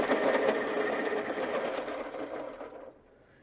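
A Derwent colored pencil is ground in a sharpener, producing a rapid gritty whirring rasp that holds steady for a few seconds and then cuts off.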